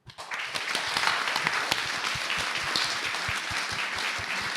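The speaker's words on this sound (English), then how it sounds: "I think Sue deserves another applause" Sustained audience applause at a climate emergency rally fringe event, dense clapping from a large crowd filling the whole stretch at steady loudness after a brief rise.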